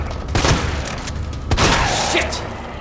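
A few sharp gunshot bursts, close and loud, over a busy game-like background rumble with short gaps between volleys, from the video game Resident Evil 2 Remake.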